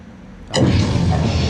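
A sudden loud boom bursts in after a quiet stretch, followed by a sustained rumbling roar that stays loud to the end.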